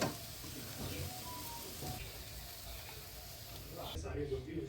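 Soybean chunks fry in hot oil with a steady, dense sizzle throughout, becoming briefly quieter near the end.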